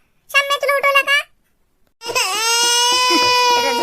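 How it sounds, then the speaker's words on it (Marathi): An infant wails in two bursts, a short choppy cry, a pause, then a longer sustained howl, loud and close. "तोच रडायला लागला"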